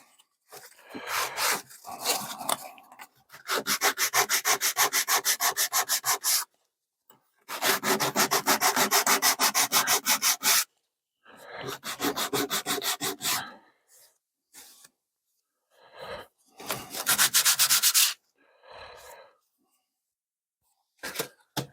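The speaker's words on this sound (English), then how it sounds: "Piece of sandpaper." Sandpaper rubs back and forth over wood by hand in rhythmic bursts of rasping strokes, several seconds each with short pauses between them, close and clear with no talk.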